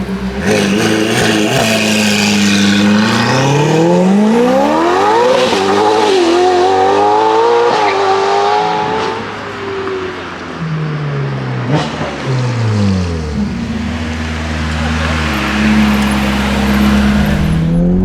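A Ferrari 488 Pista with a Novitec exhaust revs hard and accelerates up through the gears, its loud, aggressive engine note climbing and dropping with each shift before settling into a steadier drone, close and continuous with no talk.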